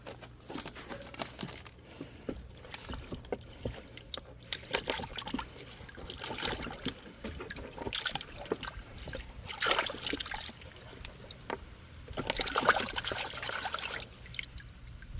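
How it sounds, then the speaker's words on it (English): Freshly dug turmeric root is rinsed by hand in water, giving soft intermittent trickles, splashes and wet crinkling rubs at close range, fairly quiet throughout. "I'm going to try to rinse it off in some water, see how that works."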